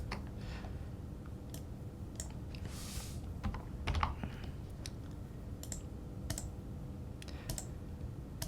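A file name gets typed on a computer keyboard in quick bursts of close clicking keystrokes, with a few pauses and a louder tap near the middle, over a faint steady room hum.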